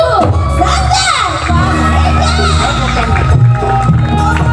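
Audience at a traditional Sundanese wedding ceremony cheering loudly for a dance troupe, with excited shouts and whoops from a dense crowd that continues without a break, over background music and voices.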